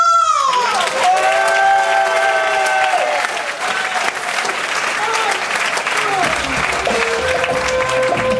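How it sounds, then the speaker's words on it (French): Loud, sustained applause from a live theatre show audience, dense clapping with some cheering that carries on for about eight seconds before thinning slightly, with voices calling out over it. "BDP Productions, applaudissements!"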